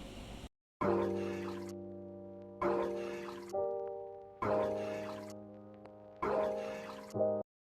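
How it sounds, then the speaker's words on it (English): A water sample is layered into a music beat, playing as four repeated chopped segments of sustained tonal sound with short silent gaps between them. "I put the water sample over it"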